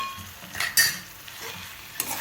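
Bhaji with gathiya crumbs and lemon juice being stirred and mixed in a pan: a few short scraping strokes with a light sizzle underneath, close and moderately loud, and no talking.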